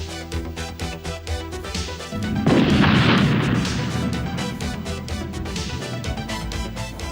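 An AMX-40 battle tank main gun fires a heavy round, a loud booming blast that swells and rolls off into a long rumbling decay amid an ongoing field soundscape.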